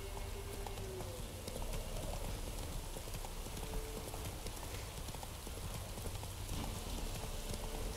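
Roach, the horse in The Witcher 3, trots with a steady, rhythmic clip-clop of hooves, quiet and continuous over a soft rain-like ambient bed.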